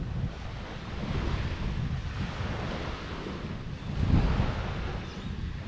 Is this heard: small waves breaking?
yes